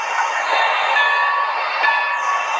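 Continuous rumbling and hissing of a video game train rolling along, with a steady metallic tone and faint squeal, loud and close, no voices.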